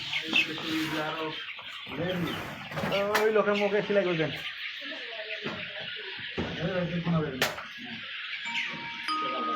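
Thirty-day-old female quail at a hatchery give overlapping bursts of high chirping and peeping calls, close and fairly busy, rising and falling in clusters with brief quieter gaps.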